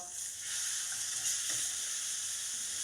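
Flipped steak sizzling in a non-stick pan, a steady close hiss of frying fat that holds an even level throughout.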